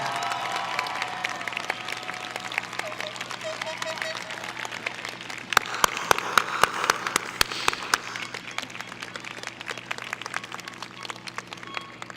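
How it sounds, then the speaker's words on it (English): Applause from the audience at a high school commencement, a broad wash of clapping that builds and swells with a few sharper claps standing out, heard at moderate distance with some crowd voices mixed in. "I think we all need to give him a round of applause worthy of the love that he has"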